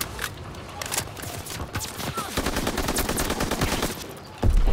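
Dense, rattling gunfire in the World War II video game Call of Duty WW2, with continuous overlapping bursts at moderate loudness and a heavier thump at the end.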